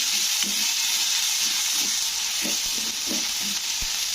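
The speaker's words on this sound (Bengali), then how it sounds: "তো আদাটাকে একটু তেলের মধ্যে ভালো করে কষে নিতে হবে" Turmeric powder and ginger fry in hot oil for a Bengali neem shukto, giving a loud, continuous hissing sizzle close up, broken by occasional soft knocks from stirring.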